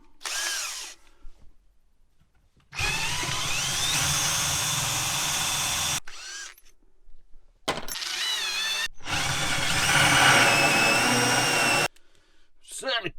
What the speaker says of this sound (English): we'll just quickly drill a hole of metal to get that bit through